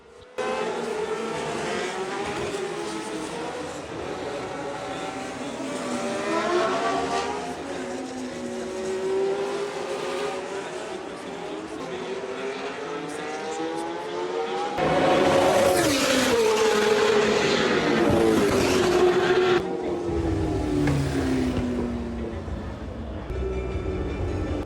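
High-pitched V10 racing engines scream past one after another at the Monaco Historic Grand Prix, pitch swooping down as each passes, with a loud surge midway and distant crowd noise beneath.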